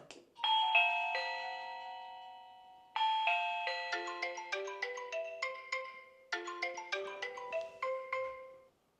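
An Amazon Chime WiFi doorbell plays its visitor alert, a clear electronic melody of bright ringing tones in three phrases, quiet and alone.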